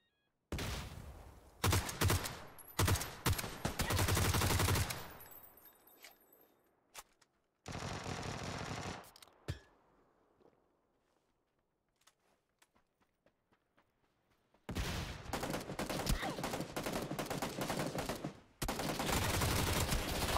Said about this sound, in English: he's shooting me through the smoke